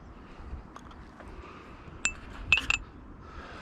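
A spent shell and a pistol barrel, pushed out with a cleaning rod, give a few quiet, sharp metallic clinks in close succession against a faint background hiss.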